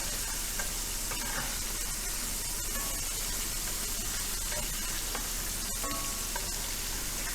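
Pieces of bass fish fry in hot oil with a steady, dense sizzle and crackle, close up and unbroken, with faint pops and clicks scattered through.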